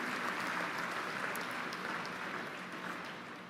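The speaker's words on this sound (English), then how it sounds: "Let's give a big round of applause to all the students who are graduating today." Fairly faint, sustained applause from an audience at a graduation convocation ceremony for students, a broad steady wash of many hands clapping that slowly tapers off.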